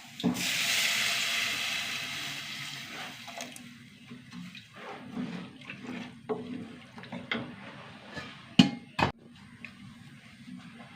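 Water poured into a pan of chilli powder and dried shrimp gives a steady rush that fades, followed by quiet clatter and a couple of sharp knocks close by.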